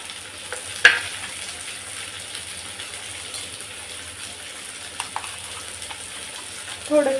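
Tomatoes tipped into onions already browned in a frying pan, a steady soft sizzle with a brief splash and clatter as they land, then a few light scrapes near the end.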